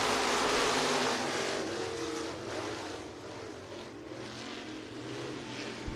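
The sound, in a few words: stock cars starting a race on a dirt track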